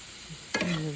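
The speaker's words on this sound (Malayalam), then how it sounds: "വെന്തിട്ടില്ല, ഒന്നുകൂടെ നമുക്ക് ഇളക്കേണ്ടി വരും" Beetroot thoran frying in oil in a pan is turned with a spoon: a quiet low simmer, then a sudden scraping stir halfway through that sets off a bright, close sizzle.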